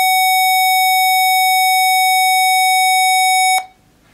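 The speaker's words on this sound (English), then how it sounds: "This next pitch is a square wave at 750 hertz." A steady electronic square wave tone at 750 hertz holds a buzzy, hollow single pitch loudly and evenly for about three and a half seconds, then cuts off abruptly into near silence.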